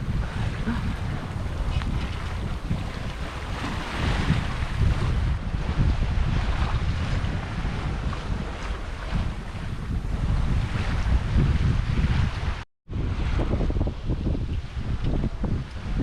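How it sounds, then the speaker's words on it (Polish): Strong wind roars steadily across the microphone while sailing on the Solent near Southampton Water, with the rush of waves and the boat's motion beneath it, briefly cutting out once. "wiaterek fajny wieje"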